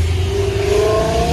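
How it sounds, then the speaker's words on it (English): Car engine revving somewhere across a cars-and-coffee meet, a loud droning engine note with a rising pitch over a low rumble throughout, no voices heard. "Something's revving it over there, I can't tell what."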